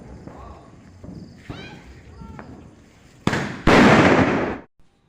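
A couple of sharp firecracker bangs followed by a loud, crackling burst of rapid explosions, with scattered voices and thumps before it.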